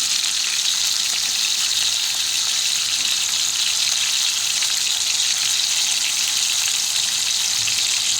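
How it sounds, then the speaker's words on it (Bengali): Chicken pieces frying in hot oil for morog polao, a loud, steady sizzle that carries on evenly throughout with no talking. "এরপর আমি ওই তেলের মধ্যে দিয়ে দিলাম মাংসটা। এটাকে আমি ভেজে নেব।"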